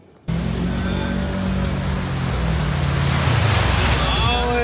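An off-road 4x4 ploughs through deep water, starting abruptly with a loud rushing surge over a low engine rumble that builds and churns steadily to the end.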